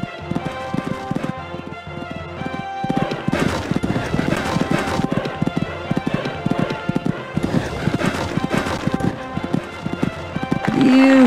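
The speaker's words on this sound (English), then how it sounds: "Cantering along this section now, and that's the way you're supposed to ride the sunken road" A horse canters cross-country through a Kentucky three-day event course in Equestriad 2001, with steady rhythmic hoofbeats clip-clopping near and loud throughout the clip and a brief whinny at the end.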